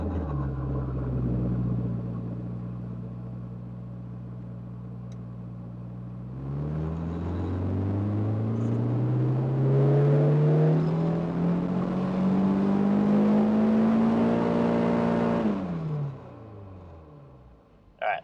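A Honda S2000 sports car engine runs in gear, idling with a low drone, then revving upward in a long steady climb that holds and falls away; close and fairly loud, no voices.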